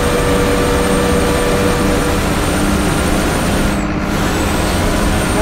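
An express bus driven in Euro Truck Simulator 2 rumbles at a steady loud drone, with a brief hissing air-brake release partway through.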